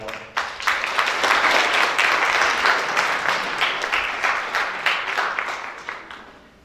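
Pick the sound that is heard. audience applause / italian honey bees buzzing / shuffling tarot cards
audience applause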